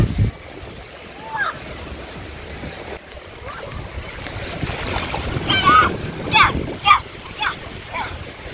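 Sea waves wash ashore at a Margate beach in gusty wind, rolling and splashing steadily near the microphone, with wind buffeting and people talking over the surf.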